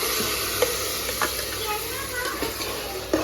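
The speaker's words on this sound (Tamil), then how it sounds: "இந்த அளவுக்கு வதங்கினதுக்கப்புறம் இப்போ நம்ம அரைச்சு இல்லைங்களா மசாலா, அதை வந்து நம்ம சேர்த்துக்கலாம்" Ground masala paste is stirred into onions and tomatoes sautéing in a pan for mutton kuzhambu, giving a close, steady sizzle with occasional scraping knocks of the spoon.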